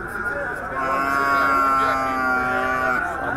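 A cow moos at a cattle market in Campina Grande, Paraíba, a single long, loud, drawn-out bellow with a clear tone lasting about three seconds, close to the listener.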